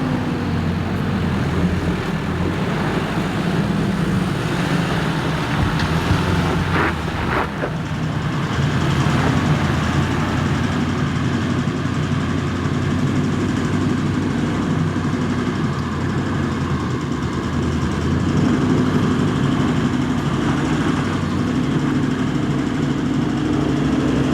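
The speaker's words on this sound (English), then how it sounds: "Gotta love the sound of that big V8 engine as it rumbles up the hills." A big V8 engine rumbles steadily and loudly climbing a hill on an Australian off-road track, its low drone swelling slightly under load, with no talking.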